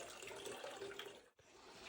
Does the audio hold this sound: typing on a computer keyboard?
no